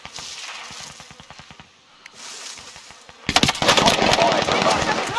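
Gunfire in the video game Warzone: a rapid string of sharp shots comes first, then after a brief lull a loud, dense burst of sustained automatic fire takes over and carries to the end.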